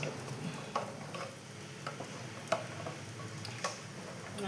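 Curry leaves dropped into hot oil for a chana dal erissery curry crackle and sizzle steadily, with sharp sporadic pops and ticks standing out over a soft continuous frying hiss.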